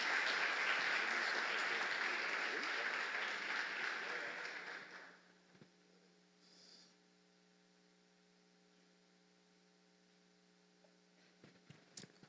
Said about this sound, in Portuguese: Aplauda ao Senhor mais uma vez.